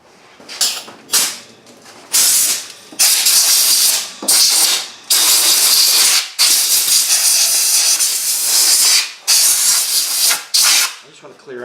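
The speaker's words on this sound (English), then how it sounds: "I get my air nozzle." A compressed air nozzle blows debris off the fuel pump lock ring of a 1998 Ford Ranger. It gives loud, close hissing bursts in repeated blasts of a second or more, then one long sustained blast with short pauses between.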